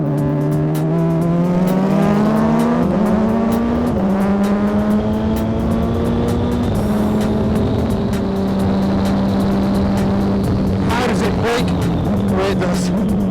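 A 300-horsepower DeltaWing race car weighing 417 kilograms on a track, its engine note loud and close, climbing through the gears with shifts, then easing as it brakes near the end.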